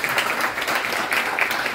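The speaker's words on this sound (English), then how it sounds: "Give him a round of applause." Audience at a sparkling wine sustainability summit breaking into applause, a dense steady wash of many hands clapping that carries on through the whole stretch.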